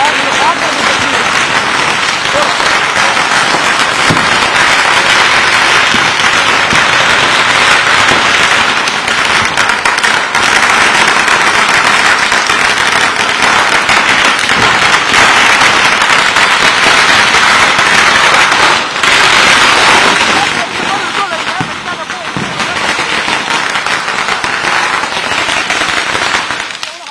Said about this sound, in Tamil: பட்டாசுலாம் வெடிச்சிட்டு இருக்காங்க